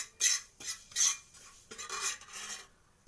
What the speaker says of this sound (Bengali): আমি গ্যাসটাকে মিডিয়ামে করে এটা নাড়ি চাড়ি ভেজে নেব